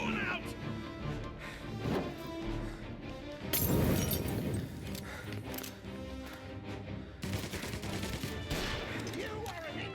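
Gunfire from a shootout in the Mafia Definitive Edition video game, with dense bursts of shots and crashing impacts layered with shouting voices and game music throughout.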